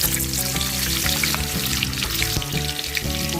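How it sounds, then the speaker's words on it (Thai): Torn kaffir lime leaves fry in hot oil with a loud, steady, close sizzle that crackles continuously throughout, with no one talking. "พี่ปูก็จะฉีกใบมะกรูดนะคะ เพื่อนำมาทอดก่อนนะคะ"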